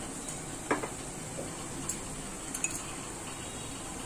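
Spices sizzling in a hot pan of fried onions on a home stove, a steady soft frying hiss with a few light metallic clinks of a spoon against the pan.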